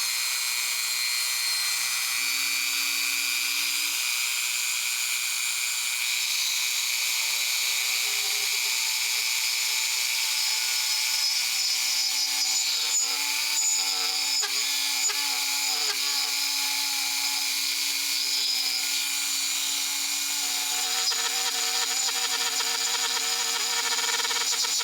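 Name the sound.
router cutting channel in wood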